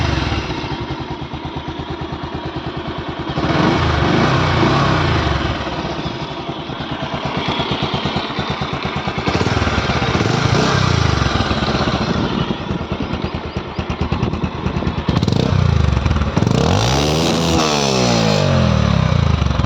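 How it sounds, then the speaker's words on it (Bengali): A Bajaj Pulsar 150 ABS motorcycle engine runs steadily and loud, with several throttle blips and revs rising and falling near the end, heard alone with no talk. "বাইকটার ইঞ্জিন সাউন্ড কিন্তু মোটামুটি ভালোই আছে, অনেক বেজি একটা সাউন্ড।"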